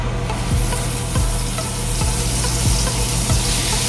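A salt, pepper and garlic seasoned beef patty sizzles steadily in a cast iron pan, a continuous loud hiss with a few brief scraping sounds repeating along the way, no voices.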